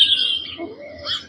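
Recorded birdsong from an AIRIVO sunrise alarm clock: a few short chirps and a falling whistled call, played at moderate volume through a small speaker with a faint low hum beneath.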